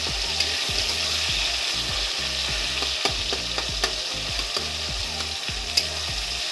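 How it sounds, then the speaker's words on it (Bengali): Chicken meat frying with tomato in a pan, stirred steadily with a utensil; a constant sizzle runs under rhythmic scraping strokes and sharp clicks of metal on the pan, close and continuous, with no talking. "টমেটোটি গলে গেলে তারপরে মাংসটা দেবো, ভালো করে মিক্স করে টমেটোটি তারপরে মাংসটা দিয়ে দেবো।"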